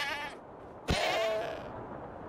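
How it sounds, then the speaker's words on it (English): A sheep or ram in Minecraft with the Ad Astra mod, on the planet Glacio, bleats twice: a short wavering bleat at the start, then a louder, longer one that fades out, heard clearly with no talk. "sheep or the rams that are here?"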